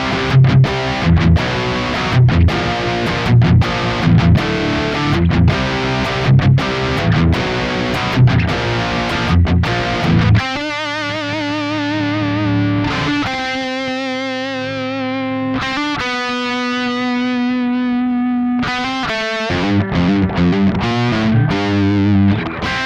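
Heavy high-gain distorted electric guitar through a Peavey 5150 amp model with a noise gate, loud and alone: tight palm-muted chugging riffs for about ten seconds, then sustained ringing chords and single-note lines with abrupt gated stops.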